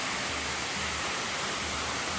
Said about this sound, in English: Definitely the tallest waterfalls we've seen.